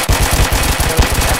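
Rapid bursts of gunfire crack out in a ride-along comedy skit, a dense machine-gun-like volley of close, loud shots running steadily throughout.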